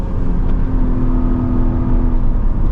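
Engine of an Audi S5 in dynamic drive mode pulling steadily under acceleration from inside the cabin, a continuous loud drone with a faint rising tone and no talk.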